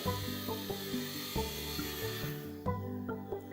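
An Eachine E119 flybarless RC helicopter hums steadily with a whirring rotor and motor whine as it sets down on a helipad, close and continuous with no speech.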